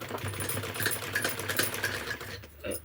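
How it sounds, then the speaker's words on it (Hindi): A sewing machine stitches blouse lining fabric with a fast, close mechanical rattle that runs steadily and then briefly slows near the end. "इस तरह से अंदर से निकाल के कपड़े को इस तरह से सिलाई डाली जाती है"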